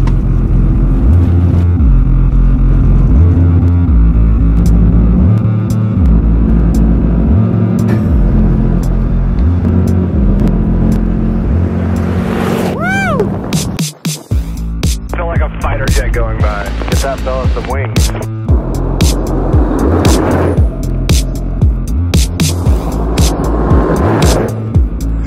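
Overland vehicle driving along a dirt road toward a mountain pass in Idaho, a loud steady engine and tyre rumble over rough ground that stays close throughout, with rattles and bumps breaking in partway.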